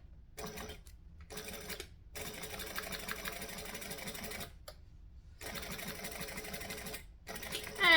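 A sewing machine stitches along the bottom edge of a handbag in several steady whirring bursts separated by short pauses, fairly close and alone.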